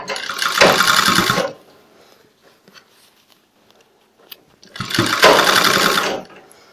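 A sewing machine stitching a kurta runs in two short bursts of rapid, close stitching, separated by a quiet pause with faint handling noises.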